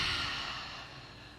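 A group audience at a stand-up comedy show lets out one long, soft, breathy exhale together during a guided meditation, fading steadily over about a second.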